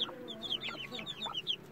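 Black Aseel hen with two white chicks, heard as soft close clucks mixed with thin high peeping chirps over quiet background.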